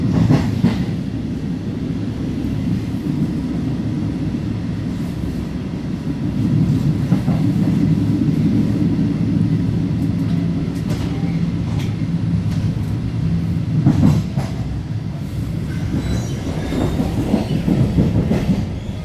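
A passenger train runs steadily on its rails while arriving at Santhià station, a continuous low rumble with rhythmic clicks and a brief squeal, heard from inside the carriage with no talking.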